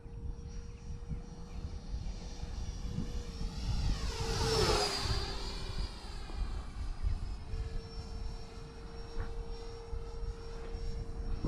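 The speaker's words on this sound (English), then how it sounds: "Oh, F-86 is getting it. Get about a 5-minute flight out of this." An F-86 model jet flies past on a windy day, its engine whine climbing as it approaches, peaking overhead, then sliding lower as it pulls away, with wind rumble throughout.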